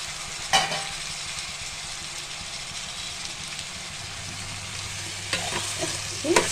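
Chopped tomatoes sizzle in a pan as they are stirred into an ash gourd sambar, a continuous close frying hiss with a few louder scraping stirs near the start and end.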